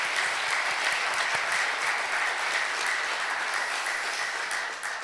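A church congregation at a Sunday worship service applauds a choir, a thick, even wash of clapping that holds steady and close before easing slightly at the end.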